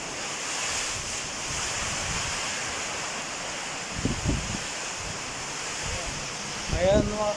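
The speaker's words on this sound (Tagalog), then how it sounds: "Hindi kami makatulog dahil sa lakas ng hangin, sa lakas ng ulan, ang mga yero na naglalagapakan" Heavy typhoon wind and rain roaring continuously in Nueva Ecija, Philippines, with metal roofing sheets banging and rattling in bursts, loudest toward the end.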